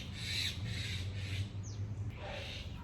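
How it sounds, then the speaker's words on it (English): A bird shrieks nearby outdoors, with several harsh, squawking calls in a row over a steady low background hum. "It's like a shriek. It's like shriek on the chalkboard right now. I'm just gonna make this bird run away."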